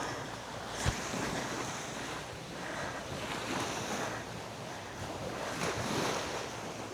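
Ocean waves rolling in at high tide, a continuous broadband surf wash with periodic swells and gusty wind buffeting the microphone, no voices.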